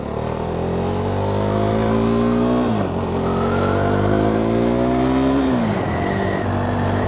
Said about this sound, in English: It does love a good twist of the throttle, this bike.